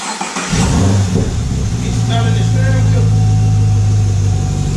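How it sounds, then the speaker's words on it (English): A Chevrolet Camaro SS engine fitted with a K&N cold air intake turns over and settles into a loud, steady idle with a low droning rumble, close by, continuing throughout. "I'm gonna start it up and cut it off so you guys can actually hear the intake itself"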